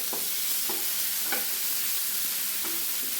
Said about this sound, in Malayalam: ഉള്ളി, വെളുത്തുള്ളി, മുളക് ഇതത്രയും ചതച്ചു വെച്ചിരിക്കുന്നത് ഇട്ട് കൊടുക്കാം. ഇനി ഒന്ന് ഇളക്കി കൊടുക്കണം.